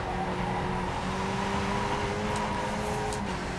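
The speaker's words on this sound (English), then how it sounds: "Ah, missed a gear." A race car engine drones loudly and steadily in the iRacing sim at Mid-Ohio Sports Car Course, its pitch holding level with a brief stumble where a gear shift is missed.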